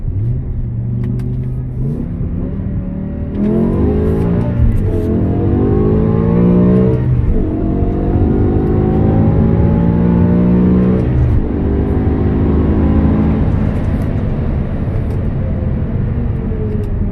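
A 500 hp 2008 BMW M6 with low mileage revs and accelerates hard through several gear changes, its engine note climbing in pitch, dropping at each shift, then rising again, loud and close with no talk.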